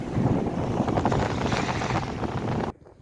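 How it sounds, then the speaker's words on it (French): Wind buffeting a microphone outdoors near the water, a continuous loud low rumble with gusty swells, cutting off abruptly near the end. "il y a un peu de vent, hein, ça fait un peu dégueu"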